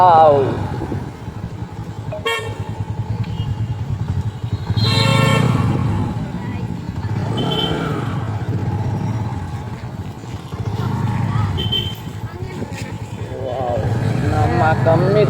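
Motor traffic passes along a road, engines rumbling with a horn toot, mixed with a motorcycle, under steady nearby talk.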